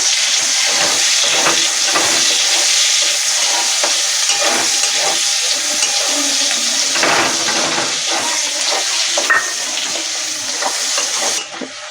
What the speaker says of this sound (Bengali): এবার পেঁয়াজ কুচিটাও দিয়ে দেব,